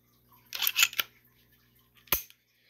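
Glock 19 cutaway clone pistol being handled while checked for an unloaded state: a burst of close mechanical clicks and slide racking, then one sharp metallic snap after a short pause.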